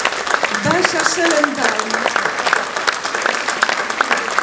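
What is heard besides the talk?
audience applause for children after a play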